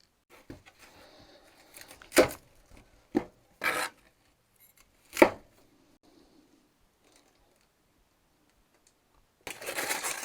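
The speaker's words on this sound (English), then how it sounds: "So I'll go ahead and chop up this broccoli" A knife chops broccoli on a board in a few sharp, separate cuts spaced a second or so apart, close and fairly quiet, followed by a brief burst of rustling at the end.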